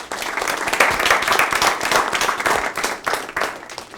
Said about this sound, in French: On applaudit les deux équipes.